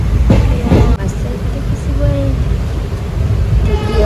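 A passenger train runs steadily, heard from a window seat inside the carriage: a continuous loud rumble and rattle with no breaks throughout.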